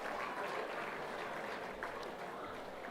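A large crowd at a football netball league medal night applauds the leading senior goal kickers, a dense, even wash of clapping heard faint and somewhat distant, with no talk over it.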